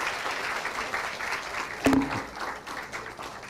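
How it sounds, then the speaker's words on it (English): Audience applause at a yoga leadership and entrepreneurship event, a steady broadband patter of many hands that holds through the whole stretch, with one brief sharper knock near the middle. "A big round of applause to Jyoti ji."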